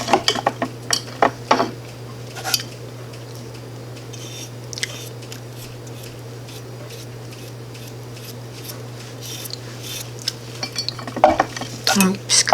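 A utensil scoops and scrapes a thick cinnamon coffee grunge mixture in a container, giving clinks and scraping taps that come in bursts at the start and end, with quieter stirring between and a steady low hum beneath.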